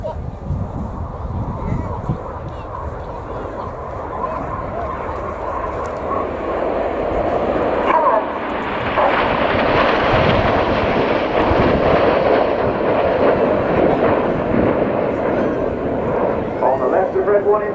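Red Arrows jet aircraft fly in formation at an air display, their engines rising from a distant rumble to a broad, loud roar, while a commentator talks over the noise.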